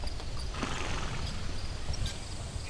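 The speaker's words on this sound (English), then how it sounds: "And this is my horse, Herman." A horse stands nearby, its hooves clip-clopping in a steady, fairly loud pattern against a constant low background rumble, with no talk.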